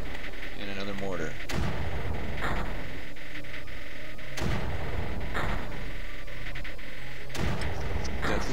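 Mortar firing in the Creeper World strategy video game, several deep booming thumps spaced a few seconds apart over a constant game hum, with a voice talking at times.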